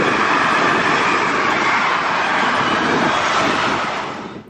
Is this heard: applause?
no